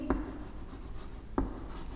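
Hand writing on a board or paper during a grade one maths lesson, two short distinct strokes about a second apart, close and clear with no talking.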